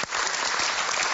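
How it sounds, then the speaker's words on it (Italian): A studio audience on an Italian TV talk show bursts into applause, a dense, loud and steady clapping that fills the whole short moment with no talking over it. "Facciamo un applauso molto a Luca."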